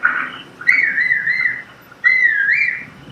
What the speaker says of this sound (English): if I want to run away from my horse, I can actually whistle